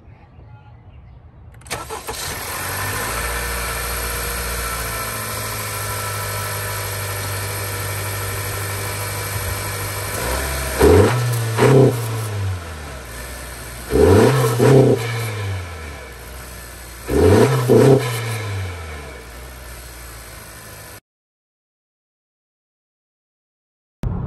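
A Honda Accord 1.5 fitted with an AEM intake starts and settles into a steady idle, then gets three sharp revs that rise and fall with a whooshing intake note before the engine cuts off.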